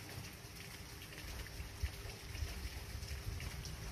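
Steady rain falls outdoors at a seaside spot in Samal, Bataan, a soft continuous patter and wash with occasional louder drops, no voices.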